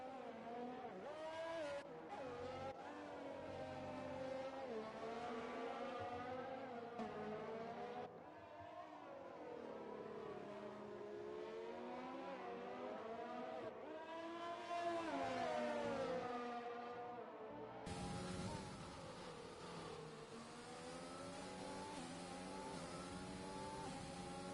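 Race cars in the F1 2020 video game at the Brazil circuit come down the start-finish straight, engines whining and rising in pitch through gear changes, several cars overlapping, with a sharp louder burst near the end.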